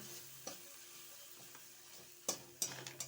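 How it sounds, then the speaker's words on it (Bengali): Dal in a pan with chili paste, turmeric and coriander-cumin powder gives a faint steady sizzle, with a few light taps and scrapes of stirring near the end, no talking. "দিয়ে একটু ভালো করে নাড়াচাড়া করলাম"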